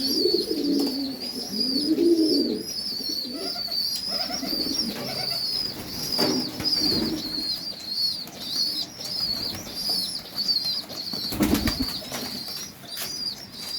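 Pigeons coo softly and flap their wings while feeding their chicks, with low murmuring coos, rustling and brief wingbeats, close and steady with a high background hiss.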